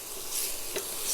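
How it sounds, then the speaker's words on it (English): Onions sizzle steadily in a hot pan while a utensil stirs them, giving a brief scrape partway through. The frying is close and continuous. "Stirring frequently until the onions begin to brown and fond forms on the bottom of the pan"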